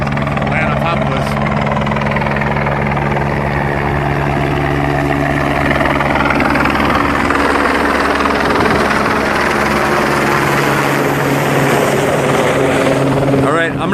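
A military helicopter flies low overhead with a loud, steady rotor throb and engine roar that fills the whole stretch without letting up.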